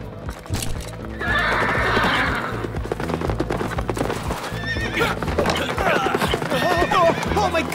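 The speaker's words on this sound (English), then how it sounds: "They gave him a horse that seems possessed." A horse neighs loudly and its hooves clip-clop in a steady rhythm, close and prominent over background music, with several whinnies near the end.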